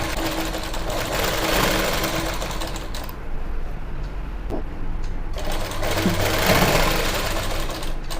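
A tailoring sewing machine stitches the pleats of gathered pants in loud, close, rapid runs, pausing briefly midway before starting up again.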